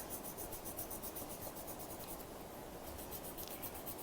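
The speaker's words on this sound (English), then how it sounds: "I'm just going to use my stub and pull my pencil like that" Pencil shading on paper being blended with a paper blending stump, a steady close soft rubbing and scratching texture throughout with no talk.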